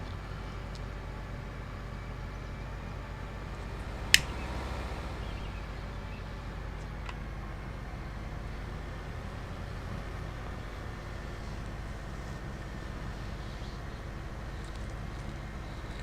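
Farm vehicle engines in the video game Farming Simulator 25 on the Riverbend map hum in a steady, continuous low drone throughout, with one sharp brief click partway through.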